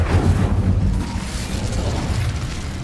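Incendio fire spell cast in Hogwarts Legacy, a loud, sustained rumbling fiery burst with a heavy low roar that holds steady for a few seconds.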